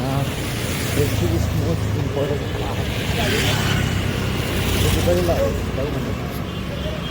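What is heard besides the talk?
traffic vehicles running in the background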